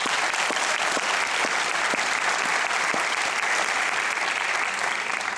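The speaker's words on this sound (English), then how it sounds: "So let's give them a big round of applause." Steady, dense applause from an audience at a high school junior honors night, filling the hall evenly and loudly from start to finish with no voices over it.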